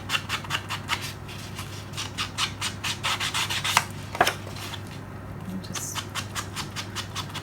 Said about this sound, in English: I'm just going to ink the edges of this page where I've trimmed it off from that one